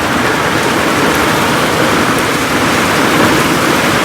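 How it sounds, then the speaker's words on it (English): Intense heavy rain from a sudden flash thunderstorm on a hot summer day pours down in sheets, a loud, dense, unbroken roar with no voices. "This is an intense rain."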